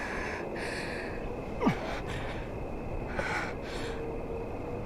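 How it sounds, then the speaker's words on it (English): Heavy panting echoing in an alley in a video game: a few breathy gasps spaced irregularly, fairly quiet against a faint background hiss. "The sound of our panting is the only noise that echoes throughout the alley."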